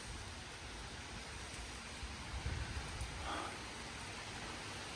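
Rain falls steadily after a windstorm around a house, a faint, even hiss of drops on surfaces with a slight swell midway and no talking.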